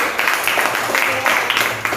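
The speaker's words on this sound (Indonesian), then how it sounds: "Bagus, tepuk tangan dulu Pak Ruby" A classroom of students applauds a classmate with a dense, steady patter of many hands clapping, close and fairly loud, running without a break for two seconds.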